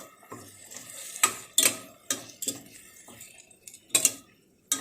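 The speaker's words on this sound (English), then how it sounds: "Now is the time to add the ground masala, and again we have to saute it for a while till the oil separates" Ground masala sautéing in a pan for a traditional country chicken gravy, heard as a run of sharp metallic spoon scrapes and clinks against the pan at an uneven pace, fairly close and with no voices.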